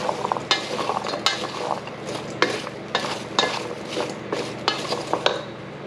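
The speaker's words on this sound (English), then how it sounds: "put the rhubarb and the apples in a large bowl and just kind of stir them around," Rhubarb and apple pieces being stirred in a large bowl, with repeated wet clattering scrapes and tumbling in an uneven rhythm, close and clear, with no talk.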